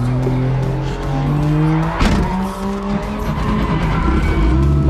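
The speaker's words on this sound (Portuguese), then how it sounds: "faz um tempinho que eu faço drift" A car drifts with sustained tire squeal and screeching rubber over a loud, steady engine roar, close and continuous.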